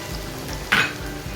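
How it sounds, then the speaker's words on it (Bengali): A short burst of sizzling as ginger-garlic paste hits hot oil, close up, over a low background hum. "রসুন আর আদা বাটাটা দিয়ে ভালো করে কষাবো"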